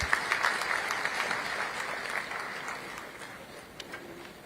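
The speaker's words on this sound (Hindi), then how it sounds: "जोरदार ताली से आप स्वागत करें" A crowd at a farmers' conference applauds with dense, sustained clapping that gradually thins and fades, with a few scattered claps trailing at the end.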